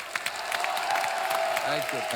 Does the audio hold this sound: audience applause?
yes